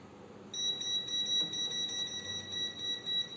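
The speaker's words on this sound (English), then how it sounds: "When it's beeping red, it shows that I have power." A steady high-pitched electronic tone from an electrical voltage tester detecting power at a wall heater starts after a brief pause and continues unbroken, faintly pulsing over a low background hum.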